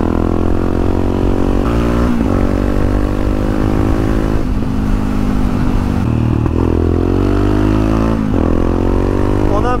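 An XTX motorcycle ridden on the road, its engine loud and close the whole time, droning steadily with rising and falling revs through gear changes and a constant rush of wind.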